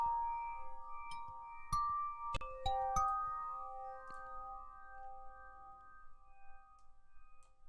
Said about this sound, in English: I added another vibe, and this one is drowned out in reverb, and this one's just like higher pitched